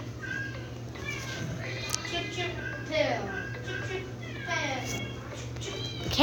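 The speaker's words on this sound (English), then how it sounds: "Cat sounds are my cousin's computer" Repeated cat meows play from a computer or tablet game, rising and falling cries mixed in and out with children's chatter in a room, moderately loud and overlapping the voices.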